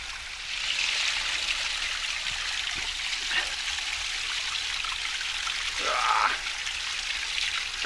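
A stream in the Cheviot hills splashing down over rocks makes a steady, close rushing wash, with a few brief louder splashes and faint sounds of movement nearby.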